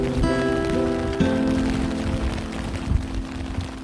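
Steady rain patters on camping tents at a campground, a dense, even hiss with occasional heavier drops close by. A faint tonal hum sits in the background.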